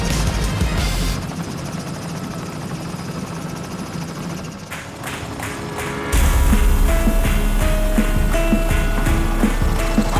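A helicopter takes off and flies over the city of Kuala Lumpur, its steady rotor and engine roar filling the scene and growing louder and closer partway through.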